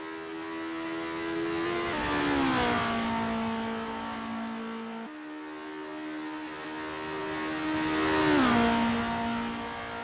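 Formula race cars in Assetto Corsa scream past on an Estonian circuit, a high engine whine rising and falling through gear changes, two cars sweeping by one after the other, loud and close.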